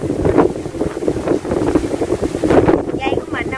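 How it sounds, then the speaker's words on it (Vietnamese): Strong wind buffeting a microphone outdoors in a forest camp setting, continuous gusty rumble and roar, loud and close, with people talking faintly beneath it. "Gió quá luôn á."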